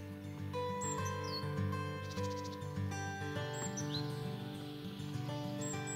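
Great spotted woodpecker fledgling and adults calling near the nest hole, with sharp repeated chirps and tweets rising over a steady layer of other birdsong and insect hum outdoors.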